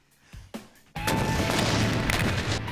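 An explosion during a Mythbusters test, starting with a couple of sharp cracks and then erupting into a loud, sustained roaring blast with debris-like crackle that stays powerful to the end.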